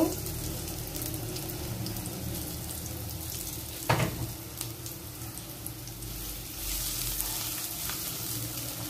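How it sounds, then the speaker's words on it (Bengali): Chopped onion sizzles steadily in hot oil in a pot with bay leaf, cardamom, clove and cinnamon, a close, continuous frying hiss with a brief clatter of stirring midway. "এখন আমি কিছুটা পেঁয়াজ কুচি দিয়ে দিব।"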